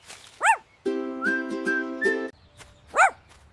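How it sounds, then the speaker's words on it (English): Two short, high dog yelps stand apart, with a sustained whistled tone sounding between them. "Max is barking again."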